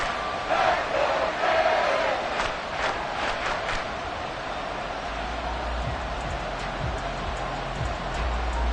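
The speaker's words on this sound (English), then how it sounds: "this crowd is making an impact right now" Dense roar of a football stadium crowd at a Bears vs Dolphins game, a loud sustained wash of voices swelling slightly early on and holding steady throughout.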